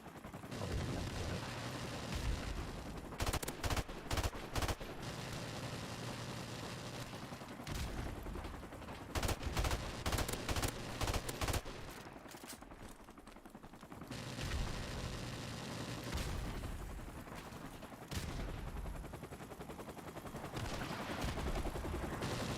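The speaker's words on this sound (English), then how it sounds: "Still firing guns." Gunfire in Call of Duty: Modern Warfare Remastered, repeated bursts of shots cutting through a dense, steady layer of game noise and mechanical clatter, loud and close throughout.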